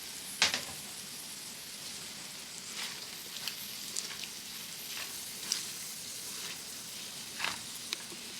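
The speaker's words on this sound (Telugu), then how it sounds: "ఇలా వేగిపోయిన గుడ్లలో కట్ చేసి పెట్టుకున్న మిర్చి, క్యారెట్, క్యాప్సికమ్ వేసి బాగా మిక్స్ చేసుకోవాలి." Scrambled eggs with chopped chilli, carrot and capsicum frying for street-style chicken fried rice, a low steady sizzle broken by intermittent spatula scrapes and taps against the pan, no talk.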